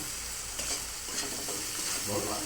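Onion, tomato, dried red chili and cumin frying as a tempering in hot oil: a continuous close sizzle with a few stirring scrapes, fairly loud and without any talking.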